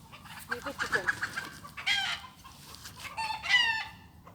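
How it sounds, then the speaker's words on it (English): A chicken clucks repeatedly, close and clear, with short bursts of squawking and a crowing-like call, alone without speech. "Nana, here's the chicken."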